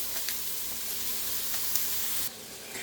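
Ground beef browns in a pan with a soft, steady sizzle and hiss. It stays faint and fairly even, then drops off toward the end.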